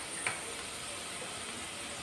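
Turmeric and coriander powder sauté in hot oil for a raw mango bhaji, giving a steady, quiet frying sizzle with a faint broadband hiss and one small crackle near the start.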